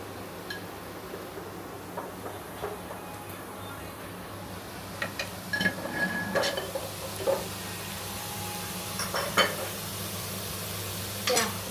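Chili powder and coriander powder being stirred into a pan of cooking food, with steady low sizzling and scattered scraping clicks of a spoon against the pan, close and moderately quiet, without speech.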